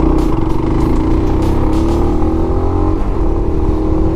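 A QJMotor Race 250 single-cylinder motorcycle engine runs loud and close on the road, a steady drone whose pitch slowly climbs and then dips, with no talking.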